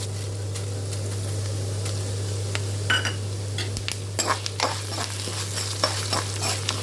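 Coriander seeds fry and sizzle in a pan while being stirred, with scattered scraping and clinking strokes over a steady low hum.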